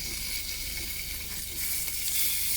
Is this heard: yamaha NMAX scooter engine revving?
no